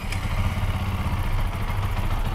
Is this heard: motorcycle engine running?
yes